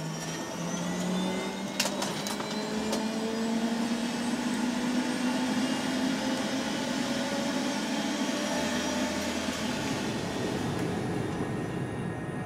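Inside a rescue aircraft cruising at full speed of about 250 km/h, a loud, constant engine and rotor drone fills the cabin, with a steady mechanical hum that never lets up.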